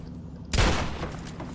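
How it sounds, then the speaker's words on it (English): A double-barrel shotgun in Fallout 3 fires both barrels at once, a single loud, heavy blast after a quiet moment, followed by a decaying roar that lingers to the end. "I wish it didn't shoot both barrels at the same time."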